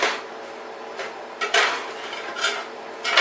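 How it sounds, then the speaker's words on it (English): Metal spatula scrapes and clinks against a pan as burgers are flipped for the first time, several short scraping strokes in quick succession. "We're going to flip our burgers for the first time."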